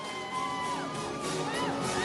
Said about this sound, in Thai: ปรบมือได้กับแชมป์ของเรา